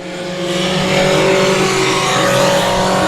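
Several race cars circle a paved oval at South Texas Speedway, with leaders lapping slower back markers. The engines make a loud, steady, sustained roar with a droning tone that swells slightly as the cars go by, and no one talks.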